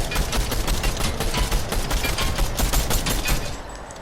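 Rapid bursts of automatic gunfire from a Fortnite match, dense and continuous across the whole stretch before easing off at the end, with no talking.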